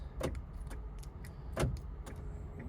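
Quiet clicks and short chirps from a 2012-2017 Hyundai Accent locking and unlocking by key fob, a few sharp pulses spaced apart over faint background noise.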